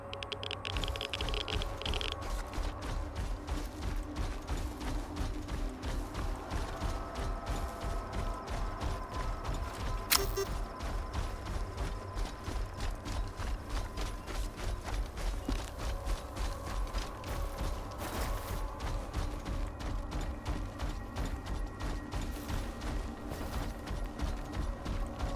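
Footsteps in the Stalker 2 video game, a constant busy clatter of rapid steps and gear rattles running the whole length, with one sharper knock partway through.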